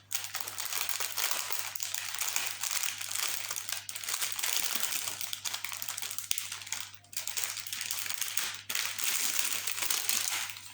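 Plastic bags of diamond painting drills being opened and handled close up, a dense continuous crinkling and rustling of plastic with brief pauses and small rattles, loud and unbroken for the full stretch, with a steady low hum underneath.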